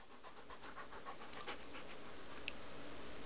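A pet dog panting steadily and quickly, close by but quiet, with soft rhythmic breaths over a faint background hiss.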